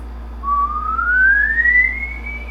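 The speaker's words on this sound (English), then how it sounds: "try whistling low to high" A single clear whistle glides smoothly upward from low to high pitch over about two seconds, alone against a faint steady hum.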